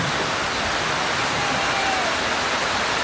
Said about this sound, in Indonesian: Kuatnya hujan di sana.